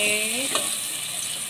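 Sautéing curry base with coconut milk in a pan for mee kari, a soft steady sizzle with a brief stirring scrape partway through, close and fairly quiet.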